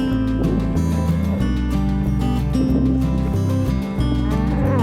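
Several cattle mooing in long, low, overlapping calls one after another, fairly close and loud.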